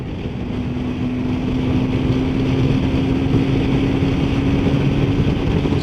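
A Yamaha RD500 two-stroke motorcycle being ridden, a loud, steady engine drone with a constant pitched tone, close up and unbroken with no voices.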